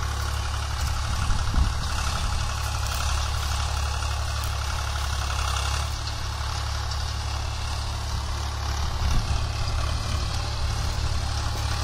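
A Swaraj 735 FE tractor engine idles steadily and close, a continuous low diesel rumble with even tone and no revving, heard alone without talk.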